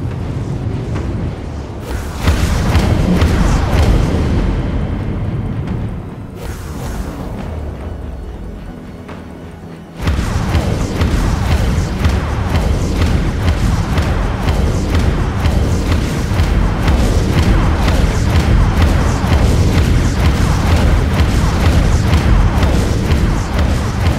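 Vulture missiles launch from a warship in a space combat video game, a loud rumbling roar of explosive bursts that eases briefly and then surges into a sustained, dense barrage of blasts.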